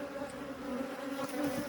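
A honeybee colony in the middle of queen supersedure hums with a steady, close, even buzz of many bees, with droning tones holding throughout.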